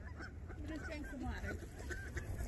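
A Canada goose honks several times on a pond where ducks are being fed, the calls fairly faint against outdoor background noise.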